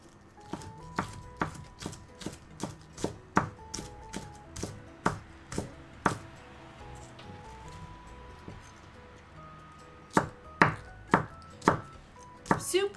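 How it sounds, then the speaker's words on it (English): A knife chops cabbage on a cutting board in a steady run of crisp, close thuds with brief pauses, the strokes speeding up near the end, with faint background music. "Gonna cut some cabbage"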